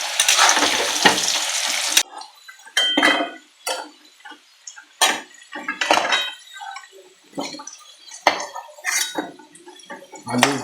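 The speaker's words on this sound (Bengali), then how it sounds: "আলু ভাজা হয়ে গেল।" Potatoes fry in a pan with a loud, steady sizzle at first, then stirring scrapes and clinks come in bursts between quieter spells of hissing oil.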